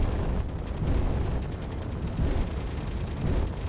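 Weapon fire in the space-combat game Space Engineers, a dense sustained rumble of rapid shots and blasts, loud and continuous with no talking.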